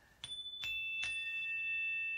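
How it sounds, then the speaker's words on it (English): Three bright metallic strikes ring out in quick succession, their clear tones sustaining and slowly fading in a quiet space. "we got some chimes to go with that"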